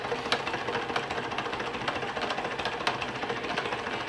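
An inside-out Bedini motor running, a faint rapid mechanical ticking pulse repeating steadily over a soft hum, close by with no talking.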